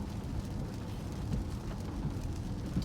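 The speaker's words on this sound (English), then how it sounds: "it's raining outside" Steady rain hisses outside beneath a low, continuous rumble from a 2017-18 Ford F-150 Raptor, an even wash of sound with no talking.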